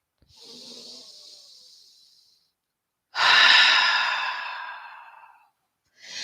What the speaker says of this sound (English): And then exhale, let it out of the mouth.